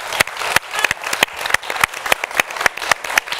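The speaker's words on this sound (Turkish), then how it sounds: "Kocaman bir alkış." Close, loud applause from a television studio audience, with individual sharp claps standing out in an uneven rhythm over a dense background of clapping.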